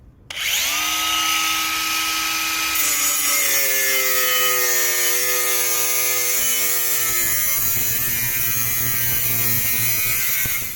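A metal exhaust joining pipe from an Astra H is cut shorter with a loud, continuous ringing whine that shifts in pitch as the cut goes on for the whole stretch, with no talking.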